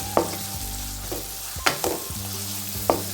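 Tomato masala sautés in a pan with a low steady sizzle, while a spoon stirs and scrapes in a few sharp, separate strokes.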